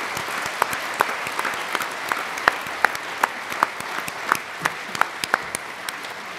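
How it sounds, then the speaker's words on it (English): An audience at a football awards ceremony claps steadily, with crisp individual claps standing out over a dense wash of applause. "I think they also deserve a generous round of applause from all of us"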